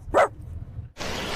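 A person imitates a single sharp dog bark with the voice, a short yelp that is followed by a brief gap and then a burst of noise.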